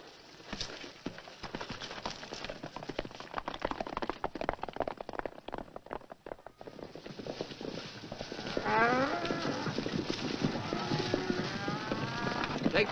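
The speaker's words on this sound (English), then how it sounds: "Take the cattle back to the valley." Cattle lowing in a herd, long moaning calls overlapping across the clip, fairly close, with a steady rustle of movement underneath.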